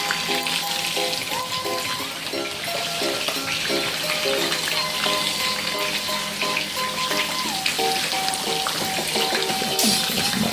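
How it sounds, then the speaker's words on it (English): Coconut cream milk poured into a hot frying pan sizzles and bubbles steadily, a loud close crackling fry lasting throughout with faint tonal hum beneath. "I'm going to add my coconut cream milk."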